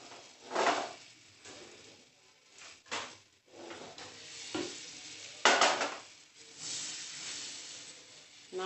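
Butter being stirred in a cooking pan with a spoon, several separate scrapes and clinks at uneven intervals, close and moderately loud.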